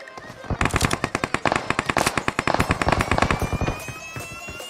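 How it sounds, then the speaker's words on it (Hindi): Rapid machine-gun fire erupts from behind during a video game battle, a dense run of sharp, loud shots in quick bursts that fill most of the moment before tapering off. "तभी पीछे से फायर होता है"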